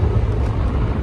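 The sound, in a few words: combustion-engine motorcycle passing by in Kunming traffic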